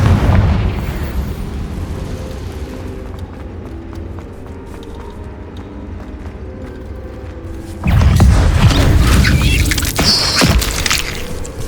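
A Confringo blasting spell goes off inside a cave in Hogwarts Legacy: low rumbling, creaking ambience, then a sudden loud booming explosion about two-thirds through that keeps roaring to the end.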